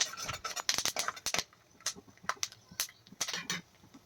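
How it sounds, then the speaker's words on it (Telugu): A metal spoon stirs peanuts frying in a pan, giving a burst of quick scraping clinks followed by sparser metallic taps and scrapes, close and fairly clear, with no talking. "ఇప్పుడు ఈ వేరుశనగ గుళ్ళను కలుపుతూ ఫ్రై చేసుకోవాలి."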